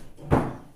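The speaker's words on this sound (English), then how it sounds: "Do I close that door then? Close that door." A door is pushed shut nearby, producing a single dull thud with a short low rumble that fades quickly.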